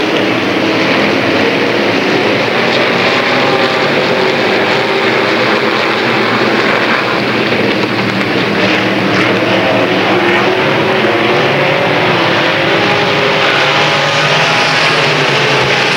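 New York limited late model race cars roar around a dirt oval at a 1993 PPMS Super Series heat, a loud steady engine drone sustained throughout without pause.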